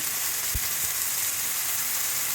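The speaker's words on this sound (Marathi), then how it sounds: "कढीपत्ता आहे, कढीपत्ता टाकायचा आहे। हळद टाकायची आहे।" Curry leaves and turmeric sizzle in hot oil, a steady close hiss with a couple of soft low knocks from the pan near the start.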